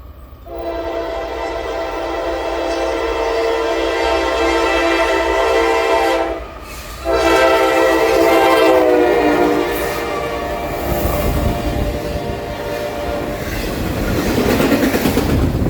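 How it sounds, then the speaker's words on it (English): A newly rebuilt Norfolk Southern AC44C6M locomotive leads a freight train past at high speed, its loud sustained horn blaring near and steady, breaking off briefly then sounding again over rising wheel and rail rumble. "Newly rebuilt AC44C6M NS4578 would be leading NS212 that morning, and the train would be moving so fast"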